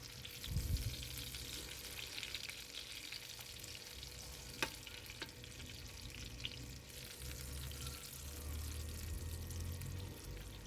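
Battered pork or meat chops fry in a pan with a soft, steady sizzle, faint and even throughout, with a couple of brief clicks.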